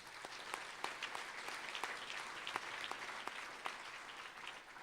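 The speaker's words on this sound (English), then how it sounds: "let's give them a round of applause" Faint, steady applause from a gala awards audience goes on for about five seconds, distant and even, with scattered sharper claps and no voices over it.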